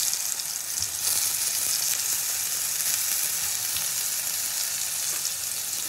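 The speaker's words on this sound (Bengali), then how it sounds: "এবার বেগুনগুলোও ভেজে নেবো সুন্দর করে।" Pieces of eggplant sizzle in hot oil in a pan, a constant close crackling hiss with faint stirring, with no voices.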